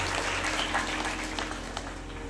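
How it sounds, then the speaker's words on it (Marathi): Applause from a village kirtan audience welcoming Muslim guests to a communal meal, a steady mid-level wash of clapping with a few sharper claps, fading slightly toward the end. "टाळी वाजून आपण त्यांचं स्वागत करूया"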